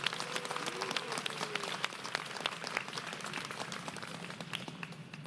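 Applause from an audience at a mayoral event marking the Lunar New Year school holiday, steady dense clapping filling the room throughout, with a faint voice briefly audible early on.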